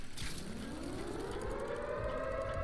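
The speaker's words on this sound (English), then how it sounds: "why is the air raid siren started up?" An air raid siren in the video game Watch Dogs Legion, a long rising wail that climbs steadily in pitch, heard fairly distant and alone with faint background noise.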